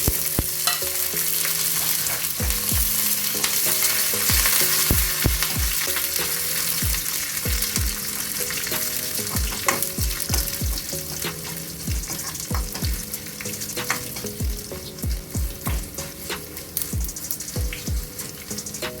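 Garlic, chillies and curry leaves sizzle steadily in hot oil in a pan for a Kerala moru curry, with a spoon repeatedly scraping and tapping the pan in an uneven rhythm, close and fairly loud.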